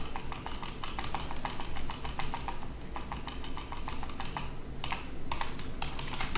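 Steady, rapid typing on a computer keyboard while entering company address details into a website form, with dense clicking keystrokes running continuously throughout and a brief lull near the end.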